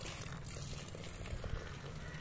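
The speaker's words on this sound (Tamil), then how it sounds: "நான் நிறைய தண்ணி ஊத்திட்டேன்" Water from a garden hose rushes steadily in a faint, continuous hiss while a child's plants are watered in a home garden; no voices.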